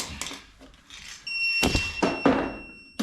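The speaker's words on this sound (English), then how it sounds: "Stop that beeping noise." A car's high electronic warning beep sounds steadily in the second half, mixed with several dull thumps and clunks nearby as the battery is disconnected.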